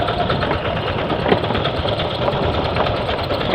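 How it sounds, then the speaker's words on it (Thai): A two-wheel walking tractor engine chugs steadily and close up while being ridden along a scenic route, a dense continuous mechanical rattle with no pauses and no talking. "ขี่รถไถไปเมื่อหน้า"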